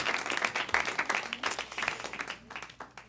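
Congregation clapping in a synagogue temple at a Shabbat service, a dense, steady patter of many hands close by with a brief whoop, continuing evenly throughout.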